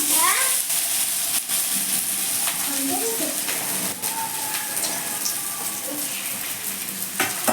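Potato kulcha mixture hits hot oil with a loud, steady sizzle and frying hiss that carries all the way through, with some stirring and occasional clatter nearby.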